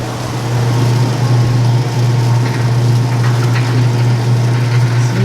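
A Speed Queen top-loading washer spins with a worn, failing belt, producing a loud, steady low hum and motor drone with a faint rubbing rattle, close and continuous throughout.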